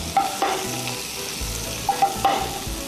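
Scallops pan-fry in a little butter with a crisp close sizzle, broken by a few sharp clinks and scrapes of a utensil against the pan.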